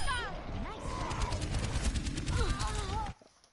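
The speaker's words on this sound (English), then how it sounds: "Rocket barrage incoming." A rocket barrage ultimate in a video game fires as a rapid rattling volley of blasts lasting about two seconds, then cuts off abruptly, with game voices calling out over it.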